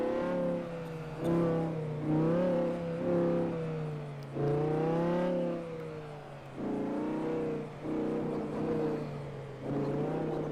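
A car driving in GTA 5 on a FiveM server, its engine rising and falling through repeated rev surges and gear changes, steady and close with no talk.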